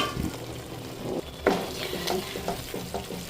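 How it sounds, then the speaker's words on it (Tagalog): Tomato paste sizzling and frying in a pan for black chole, a steady hiss broken by occasional stirring scrapes and a louder clatter of a utensil, close by with no talking. "Lutuin muna natin yung tamatar bago tayo maglagay ng mga masala."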